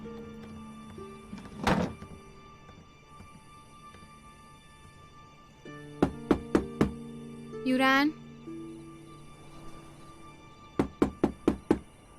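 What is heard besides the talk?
knocking on a door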